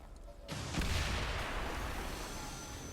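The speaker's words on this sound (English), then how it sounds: "And we'll send the missile in." Missile strike in XCOM 2: a sudden loud explosive burst lands about half a second in, then a sustained roaring rumble and debris wash hold steady to the end, with no talking.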